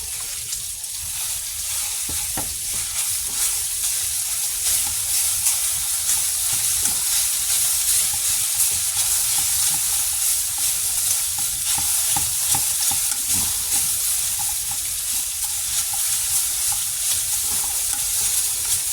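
Potatoes fry in a pan for breakfast burritos, a loud, dense, continuous hissing sizzle holding steady close up throughout without talk.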